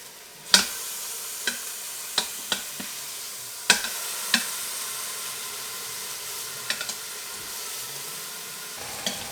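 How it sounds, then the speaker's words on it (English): Pork pieces brown in an Instant Pot for pulled pork, sizzling steadily with a soft hiss while several sharp utensil clacks and scrapes punctuate the frying, with no voices. "So we're gonna let these brown for about a minute on each side."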